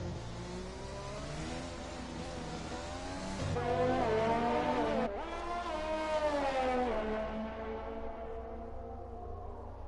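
Onboard race car engine from a racing video game during a qualifying lap at Abu Dhabi, a loud continuous high-revving whine that rises and falls through gear changes, near and alone.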